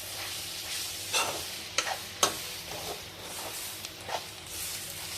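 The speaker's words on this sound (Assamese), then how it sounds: "অকণমান ভাজিম মই ইয়াত" Steady sizzling of Kashmiri chili powder and spices frying in a hot pan for a duck curry, with a few scraping stirs punctuating the crackle.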